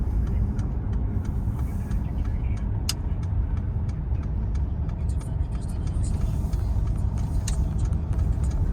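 A 2014 Mercedes SL350 AMG Sport with a 3.5-litre, 306 bhp engine runs at a steady, smooth idle. The deep, even rumble holds constant with no revving, while faint light ticks sit above it.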